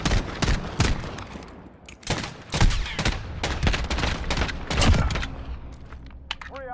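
Rapid bursts of pistol gunfire in the Modern Warfare video game on PS4, loud sharp shots fired in quick clusters across the whole stretch with short gaps between volleys.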